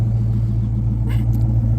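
A car cabin hums with a loud, steady low engine and road rumble at close range, a faint brief rustle partway through and no voices.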